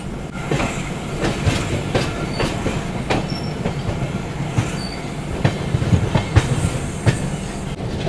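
The East Coast Express passenger train runs along the rails through a long curve after a diversion, its steady rumble broken by rhythmic clickety-clack wheel beats and faint high wheel squeals, with no talk.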